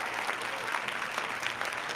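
Canned applause sound effect triggered from streaming software, a steady dense wash of clapping and crowd noise that runs loud and unbroken for the full couple of seconds, with no voices over it.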